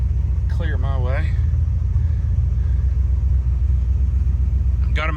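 An old rig's engine gives a steady, heavy low rumble as it drives across a road, close by and continuous, with a voice briefly heard at the start and again at the end.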